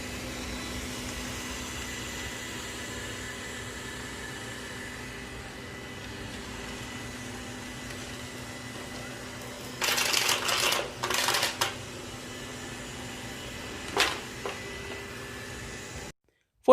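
Roborock robot vacuums run on max power over powder, Skittles, plastic beads and large chunks of candy, with a steady whirring hum and brief rattling bursts as debris is sucked up.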